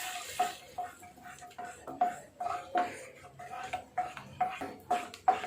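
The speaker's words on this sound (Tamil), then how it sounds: "சர்க்கரையை சேர்த்துட்டு நல்லா கலரி விடுங்க" A spoon stirs wheat halwa with caramelized sugar in a pan, making quiet, rhythmic scraping strokes about twice a second with a faint sizzle underneath.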